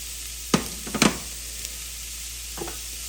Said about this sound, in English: Then I will begin sweating my onions.